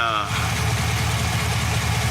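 A 2005 HD 2500 truck with a dumped exhaust idles close up, a loud, even low throb pulsing in a steady rhythm, with a brief voice at the very start.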